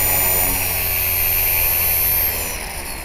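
Continuous engine and rotor whine of an HK-450FBL RC helicopter with a Turnigy Typhoon 2218 motor as it comes in to land outdoors in cold winter weather, loud and steady, easing off slightly at the end.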